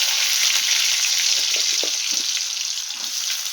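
New potatoes fry in hot oil with a loud, close, continuous sizzle and scattered small pops and spatters.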